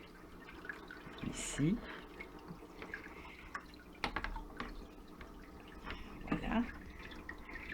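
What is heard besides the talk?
aquarium water being poured into a dish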